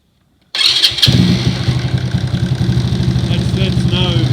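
A supercharged Postie motorcycle engine with a power jet setup starts after a moment of silence and settles into a close, loud, steady, rapid-firing idle.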